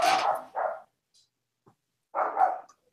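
A dog at a house door barks in three short, close bursts, two quick ones and then a third after a quiet pause.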